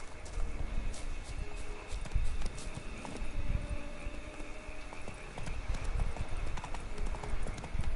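Horse hooves pound rhythmically as a mount gallops in The Witcher 3: Wild Hunt, Blood and Wine, a brisk repeating clip-clop close up over low game ambience.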